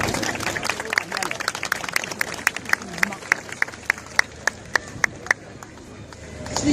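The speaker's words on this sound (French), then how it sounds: "Et je vous demande de l'applaudir." An outdoor audience at the inauguration of Place Slimane Azem in Paris claps in scattered, then rhythmic unison beats, sharp distinct claps spaced about a third of a second apart, with crowd murmur underneath.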